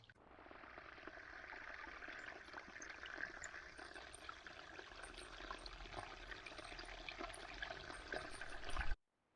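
Water streams steadily along a dug trench through swampy ground, a continuous close rushing trickle that holds even for about nine seconds, then cuts off.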